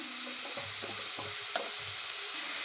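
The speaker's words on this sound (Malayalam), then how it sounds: "ഉള്ളി ഇട്ട് ഉള്ളി നന്നായി വഴറ്റിയെടുക്കാം" Onions sauté in a pan with a continuous soft sizzle and light stirring scrapes, close and steady throughout.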